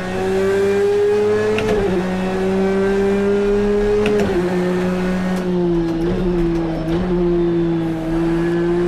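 A 2017 Porsche 911 RSR race car in Project CARS 2 drones loudly and close with a steady high engine tone, briefly dipping and rising as the throttle shifts, with no talking over it.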